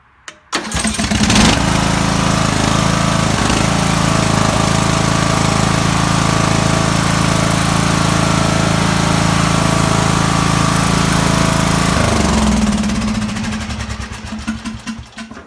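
A Poulan Pro riding lawn mower engine sputters to life and settles into a loud, steady running drone, then winds down and cuts off near the end.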